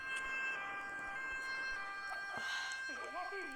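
An ambulance siren wails in a video game, steady and mid-distance, while a player speaks over it.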